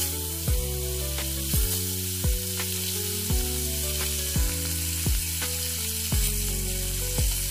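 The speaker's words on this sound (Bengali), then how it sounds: "সর্ষের তেলে এক এক করে সব মাছগুলিকে খুব ভালোভাবে ভেজে নেব।" Tilapia fish frying in mustard oil in a frying pan, giving a continuous hissing sizzle under steady background music, with no talking.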